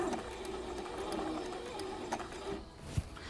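A sewing machine stitches through fabric in a steady, continuous mechanical whir that runs unbroken, close and moderately loud, with a small knock near the end and no talking.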